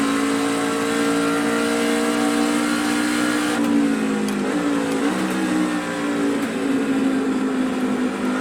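NASCAR truck engine in the iRacing sim at Watkins Glen, a loud sustained roar with a steady pitch that dips and rises through gear changes and a brief lift mid-way, heard alone and close.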